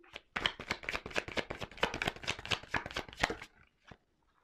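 A tarot deck is handled in a quick run of crisp card riffles and slaps lasting about three seconds, close and fairly loud, ending in one last soft tap before silence.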